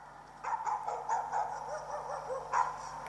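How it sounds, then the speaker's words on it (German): A dog barks in the horror game Layers of Fear Legacy, giving a handful of sharp, uneven yaps over a low steady hum, moderately loud and unaccompanied by speech. "Hundegekläffer."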